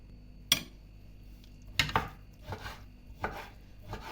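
Several sharp knife chops through roasted eggplant on a cutting board, spaced irregularly, close by with a quiet background and no talking.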